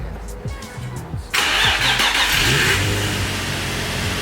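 A rebuilt Nissan 350Z engine cranks briefly and fires up for the first time, catching into a loud steady running roar close by, with excited shouting from people nearby.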